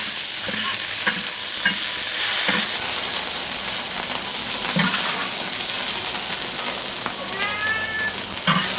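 Pickled mustard greens stir-fry with chili peppers and Sichuan peppercorns in a home kitchen wok: a steady sizzle under intermittent scraping knocks of a spatula, with a brief high squeal near the end.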